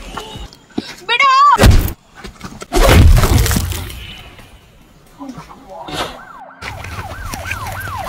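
In a Kannada short film scene, a loud crash and shouting voices come first, followed by a police siren that wails in a rapid, repeating rise-and-fall pattern near the end.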